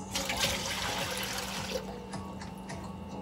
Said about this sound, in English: Ilalagay ngayon natin ang ating 4 cups of water sa ating